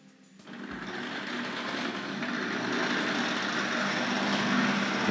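A steady mechanical whir of a small motor as a Hornby BR Class 4P 2-6-4 tank model locomotive runs continuously on nickel-silver track, growing slightly louder over time, with no talking.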